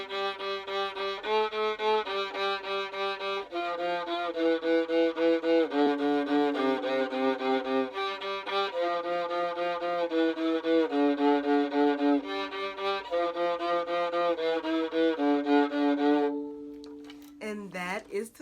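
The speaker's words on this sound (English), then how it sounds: "And that is the sound of the viola." Viola bowed alone in a steady melodic passage with clear sustained notes, close and fairly loud, ending on a held tone before a brief pluck-like flourish.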